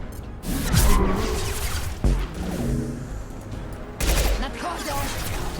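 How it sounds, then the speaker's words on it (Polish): A burst of sharp, concussive blasts from a concussive shot in the video game Mass Effect 2, with a few heavy impacts and crashing bursts spaced a couple of seconds apart. "Odpalam strzał wstrząsowy!"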